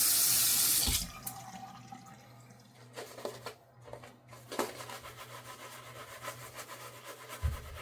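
Water runs from a tap into a sink during a wet shave, a steady stream at the start that cuts off, followed by scattered splashes, rubbing and drips nearby.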